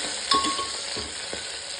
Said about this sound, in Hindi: इसमें है थोड़ा सा गार्लिक, मैंने साबुत ही डाल दिया दोस्तों, और इसको थोड़ा सा हल्का सा भून लीजिए थोड़ी देर